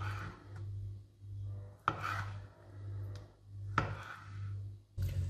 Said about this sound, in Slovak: Nakrájame avokádo.